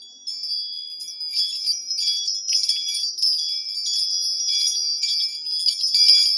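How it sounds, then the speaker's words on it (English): Small antique brass bells jingle and tinkle continuously in bright, shimmering clusters, close and fairly loud, with no voices. "These are antique bells that I found."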